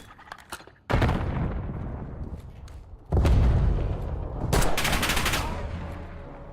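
Flashbang blasts and bursts of gunfire in a tactical shooter video game, loud and close, with heavy sustained volleys and sharp cracking rattles in two main waves.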